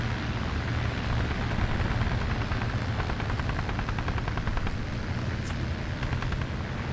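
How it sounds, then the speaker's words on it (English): Engine drone of an aircraft in the War Thunder tank battle game, a steady rumbling roar overhead that stays loud and even throughout, with a brief sharp sound near the end. "I hear you, plane. Where are you?"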